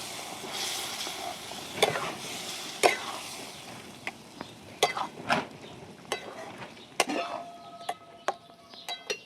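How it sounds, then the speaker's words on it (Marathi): Masala paste for mutton frying in a pan while a spoon scrapes and stirs it, giving a steady soft sizzle broken by repeated sharp metallic clinks against the pan, close and clear with no talking. "आता चांगलं वाटणाचा आणि त्या मसाल्याचा एक जीव करतो"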